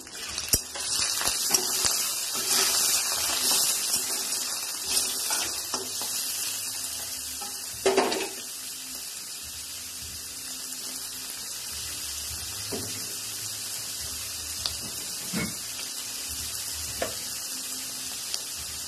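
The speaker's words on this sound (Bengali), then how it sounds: "পেঁয়াজটা হালকা ভাজা হয়ে গেছে, চিংড়ি মাছটা অ্যাড করলাম।" Prawns added to lightly fried onion in a pan, a long steady hiss of frying that fades slightly, with occasional clatters of utensils against the pan, close by with no talk.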